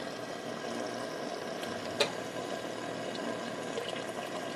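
A reef tank return pump runs after being switched on, giving a faint, steady wash of flowing water with one brief splash partway through.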